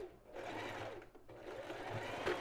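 A domestic sewing machine backstitches over lingerie fabric, its motor whirring in a continuous close hum that dips briefly mid-way before running on.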